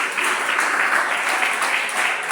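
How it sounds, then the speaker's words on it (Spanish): Congregation at a prison evangelism church service applauding together, a dense, steady wash of many hands clapping at close range that fills the whole moment without a break. "Denle ese aplauso con el alma al Señor."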